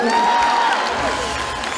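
Audience applause at a women's equality comedy event, steady clapping mixed with cheering and crowd noise, fairly loud and continuous throughout.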